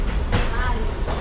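A passenger train on a 2000-kilometre run from Bihar to Telangana rumbles steadily on its rails, a loud continuous low roar with faint rattling from the carriage and no clear speech.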